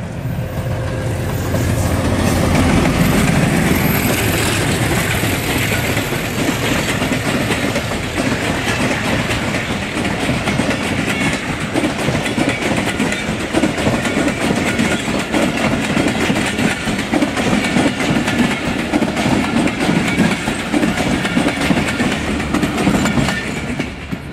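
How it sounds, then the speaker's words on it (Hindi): A train rolls past a railway level crossing near a graveyard, a loud sustained rumble with rhythmic clickety-clack of wheels over the rails that continues close by for over twenty seconds. "फाटक से अभी रेलगाड़ी गुजर के गई है"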